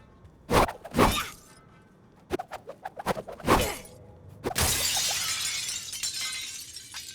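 Glass shattering in the Suicide Squad: Kill the Justice League video game: several loud thumps and impacts, then a crashing break followed by a long bright spray of falling shards and tinkling debris.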